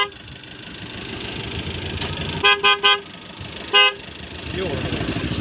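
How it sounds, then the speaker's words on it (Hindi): A Skoda Rapid's car horn honks several times, a quick burst of three short toots followed by one longer blast, loud and close, over a low engine idle and background voices. "अरे हॉर्न बजाओ, क्या कर रहा?"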